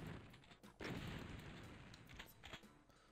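Gunfire in the video game Ultimate DOOM, a run of loud, close blasts with a big burst near the start and further sharp shots scattered through, all over a dense, noisy game background.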